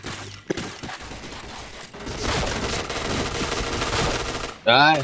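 Rapid bursts of automatic gunfire from a video game shooter, loud and dense with overlapping shots, closing on a short high-pitched electronic sweep; no talk over it.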